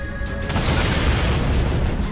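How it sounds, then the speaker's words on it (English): A big explosion in the Halo 4 video game, a loud, dense, sustained boom rumbling without pause for about two seconds. "Look at that shit blow up. Cool guys don't look at explosions"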